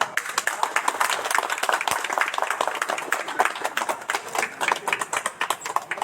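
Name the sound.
clapping at hospital opening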